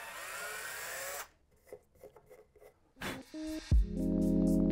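A power drill bores into wood filled with CA glue in a woodworking shop, a loud whirring grind at first, then quieter scraping and handling noises and a short final burst of drilling.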